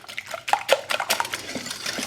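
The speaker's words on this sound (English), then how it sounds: "Now I'm gonna go ahead and whisk all these eggs" Quick clinking strokes of a whisk against a bowl as eggs are beaten, a steady irregular tapping rhythm, close and fairly loud with no talk.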